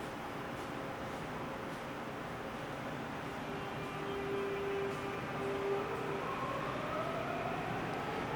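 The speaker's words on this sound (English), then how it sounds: "But I decided to take a train, the subway train" Steady rumble of a Seoul subway train riding along the tracks, with a continuous low roar, faint rattles and a thin rising whine from the motors, moderately loud throughout with no talk.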